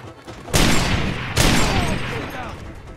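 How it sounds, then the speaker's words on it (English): Enemy gunfire during a scrapyard shootout in Far Cry 2: two loud, close bursts of shots about a second apart, each trailing into a rough, fading rumble. "There's another guy here shooting from behind."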